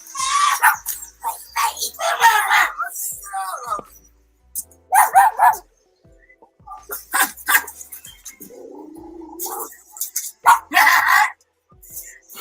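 Barking dogs playing back from a video, several sharp barks and a few higher whining cries scattered through the stretch, with people talking in between.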